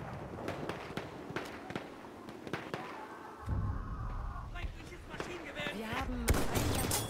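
Sniper rifle gunfire in Battlefield 1 multiplayer, scattered sharp cracks across the battlefield with a louder burst of shooting and rumble later, while people talk over it.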